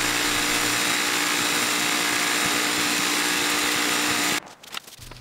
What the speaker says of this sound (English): The cutting tab is then ground off on the grinding wheel.